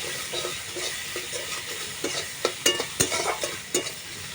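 Pointed gourd peels stir-fry with salt in a hot pan, giving a soft sizzle under repeated scraping strokes of a spatula that sharpen into sharper clacks toward the end.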